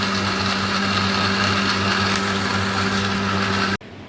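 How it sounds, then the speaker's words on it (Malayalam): A mixer grinder whirs steadily as it blends palm sugar candy into a protein shake, a loud constant motor drone with a high whine that cuts off abruptly near the end. "ഇനി നമുക്കൊന്ന് അടിച്ചൊന്ന് എടുക്കാം."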